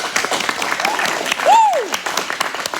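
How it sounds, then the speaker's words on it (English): A group claps for a player at team training in Regent's Park, a brisk, loud burst of many hands, with a rising and falling whoop or whistle sounding partway through. "Clap it up for Nathan, guys."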